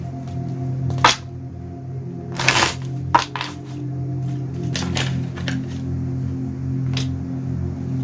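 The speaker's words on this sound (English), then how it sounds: "Maybe I need to shuffle." Tarot cards being shuffled by hand, a few crisp snapping bursts scattered over a steady low background hum, close and fairly quiet.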